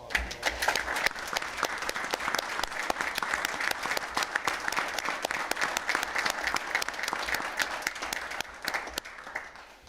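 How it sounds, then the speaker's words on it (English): Sustained applause from a crowd in a city commission meeting chamber honouring a fire captain and colleagues, dense steady clapping that holds for several seconds before tapering off at the end. "y'all round of applause."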